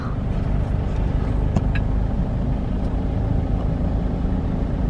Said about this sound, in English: So, sobrang traffic, guys.